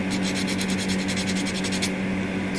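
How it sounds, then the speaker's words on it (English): Steady rhythmic scrubbing of 400 grit sandpaper against a small plastic figure kit, close and dry, with quick back-and-forth strokes that stop near the end. "I am moving on to the 400 grit sandpaper"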